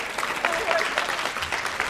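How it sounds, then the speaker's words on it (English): A small crowd claps in a brief burst of applause, with voices mixed in under the clapping. "Give her a round of applause."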